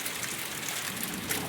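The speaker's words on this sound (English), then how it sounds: "it hasn't stopped raining ice" Hail and icy rain pour down steadily outdoors, a dense, even hiss of pellets striking surfaces with no pauses.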